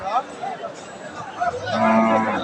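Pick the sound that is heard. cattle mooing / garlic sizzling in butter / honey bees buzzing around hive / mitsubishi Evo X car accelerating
cattle mooing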